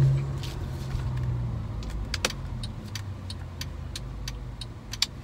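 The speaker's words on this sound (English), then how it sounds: "I'm just trying to get out of parking lot and just touching the gas pedal." A Mercedes car pulls slowly out of a parking lot with light throttle, its low engine hum steady throughout, along with scattered clicks and ticks from the cabin and no one speaking.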